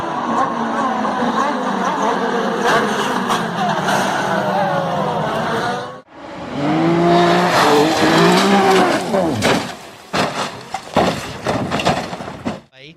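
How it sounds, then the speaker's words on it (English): Pro Mazda race cars lose grip and crash, tires squealing in long wavering screeches, broken by a brief cut and followed by more squealing and scattered impacts, with a commentator's voice running underneath. "huge wreck in Pro Mazda coming"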